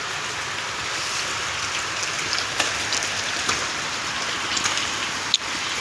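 Heavy morning rain pours steadily, a dense even patter on surfaces close by with a few faint knocks, continuous and without voices.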